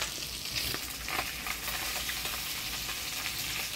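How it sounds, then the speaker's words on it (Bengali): Fish frying in hot oil for a fish curry with potatoes and okra, a dense steady sizzle with sharp crackles and pops spitting throughout, close and fairly loud with no voices. "মাছগুলা ভালোই ফাটছে, ভয়ই লাগতেছিল"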